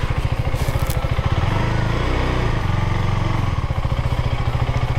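A motorcycle engine idles steadily and close by in a parking spot outside a Service NSW office in Australia, its low, even putter holding for the whole stretch with no talk over it.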